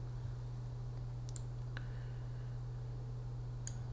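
Faint computer mouse clicks while working in SprutCAM CAM software, three sparse single clicks over a steady low electrical hum.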